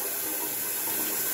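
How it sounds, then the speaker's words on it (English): Hot water from a tap gushing steadily into a bathroom sink, a close, loud, continuous rushing splash with no breaks. "And filling up the sink here with some hot water."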